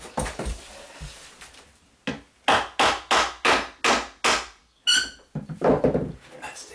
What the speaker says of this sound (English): Then I can tap the bottom one up